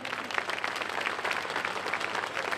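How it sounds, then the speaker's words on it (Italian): Audience clapping for a singer at the Cantazzurro 2010 singing contest in Gallio, a moderately quiet, continuous patter of many hands heard from a little distance. "un bel applauso"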